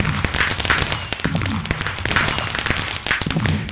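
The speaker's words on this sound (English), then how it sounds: "We got green fireworks." Green fireworks bursting in a Minecraft team minigame, a steady crackle of pops and thuds with repeated bright bursts across the clip and faint voices underneath.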